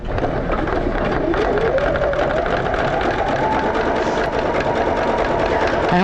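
Sewing machine running a steady zigzag stitch to thread-paint a rug design: a loud, continuous, close motor whir with rapid needle chatter and no pauses.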